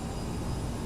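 Twin jet engines of a CRJ1000 at takeoff thrust roar in a steady, dense rumble with a faint high whine, continuous and close for under a second.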